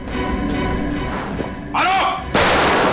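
A gunshot goes off near the end of a tense Hindi TV crime drama scene, landing as a loud sudden burst after speech and a short wavering tone.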